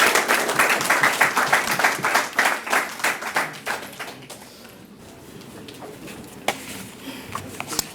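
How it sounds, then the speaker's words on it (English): Audience at a debate competition claps in a burst of applause that is fairly full at first, then thins out and fades to a few scattered claps over quiet room noise. "Give them a round of applause."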